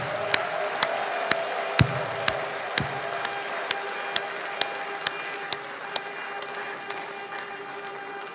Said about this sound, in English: Biafrans, another hands of applause for Mr.